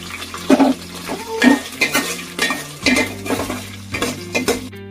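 Onion pieces are tossed into a pan and stirred for a vegetable pulao, with repeated scraping and clinking of a spoon against metal over a light sizzle and a steady low hum.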